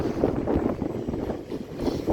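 Strong wind buffeting a microphone on a blustery station platform, a loud, uneven low rumble with gusty surges throughout.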